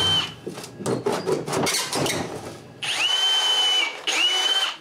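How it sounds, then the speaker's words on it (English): A power drill whirs in repeated bursts, revving up and down, then runs steadily with a high whine in two close, loud stretches while drilling holes in pre-finished wall panels. "The first thing I do is drill some holes in the pre-finished walls for the sensors"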